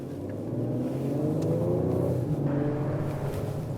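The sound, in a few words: 2020 Ford Explorer ST driving around traffic circle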